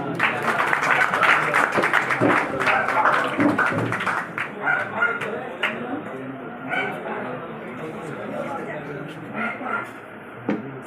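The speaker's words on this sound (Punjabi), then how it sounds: "ਜ਼ੋਰਦਾਰ ਤਾਲੀਆਂ" Loud, sustained applause from a crowd at a farmers' organization meeting in a village, dense clapping rolling on throughout and tapering slightly toward the end.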